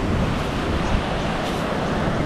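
Surf rolling and wind blowing along a beach, a steady, dense roar of waves with wind rumble against the microphone, continuous and fairly loud with no voices.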